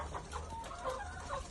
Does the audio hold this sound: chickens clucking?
yes